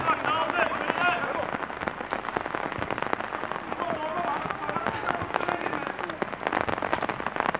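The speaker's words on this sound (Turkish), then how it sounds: "Çok fazla yağmur var şu anda." Heavy rain hammers down during an amateur football match in İzmir, a constant crackling patter with sharp drops, heard under ongoing commentary and crowd voices.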